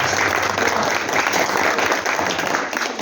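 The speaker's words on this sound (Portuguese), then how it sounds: "Aplauda o Senhor" Steady, dense applause from a church congregation during a worship service, loud and sustained throughout with no pauses.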